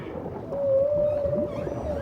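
A long, drawn-out humpback whale call rises and holds as a steady moaning tone over a murky underwater hiss.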